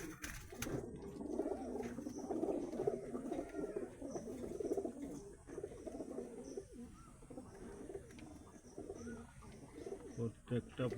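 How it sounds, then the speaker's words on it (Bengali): Steady low cooing comes from a group of pigeons kept in a loft. The murmuring throbs run continuously at close range, with faint chirps mixed in. "প্রত্যেকটা পায়রাকে দেখানোর চেষ্টা করছি।"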